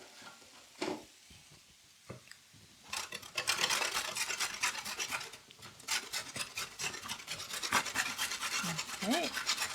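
Organic carrots are rubbed hard against a grater, giving continuous loud rasping strokes after a few faint knocks; the scraping is close and steady, with a brief voice at the end.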